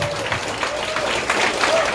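Audience at a political rally applauding: a brief burst of dense clapping from a crowd, steady and moderately loud, with a voice speaking over it.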